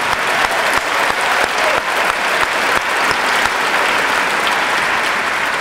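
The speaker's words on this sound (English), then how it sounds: "we want to give them a huge round of applause" Loud, close applause from a crowd at a youth poetry slam event, dense and continuous clapping with individual sharp claps standing out throughout.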